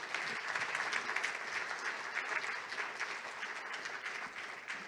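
An audience at a formal commemorative ceremony claps for a speaker in a sustained, even burst of applause that fades slightly toward the end, with no talk over it.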